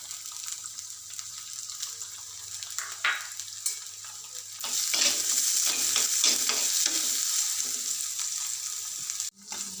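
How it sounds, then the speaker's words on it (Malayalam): Green chillies and finely chopped shallots fry in a pan for a curry, a steady close sizzle with scraping stirs that grows louder and busier partway through, with no talking. "അപ്പോൾ ഉള്ളി നല്ലോണം വാടി വരട്ടെ"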